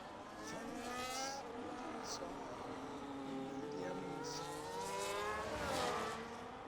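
An F1 race car in the video game F1 25 at Abu Dhabi screams along at high revs. Its loud, continuous engine whine rises and falls in pitch with gear changes and acceleration throughout.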